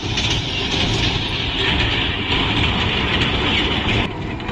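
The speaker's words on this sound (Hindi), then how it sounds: "मैं पूरी ट्रेन में अकेला सवारी कर रहा था।" A small amusement park train ride rolling along steadily, with a continuous rumbling rattle and hiss of wheels and cars close by, holding an even loudness before cutting off abruptly near the end.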